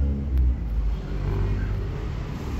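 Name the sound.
1992 Toyota Corolla engine revving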